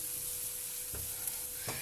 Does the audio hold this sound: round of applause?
no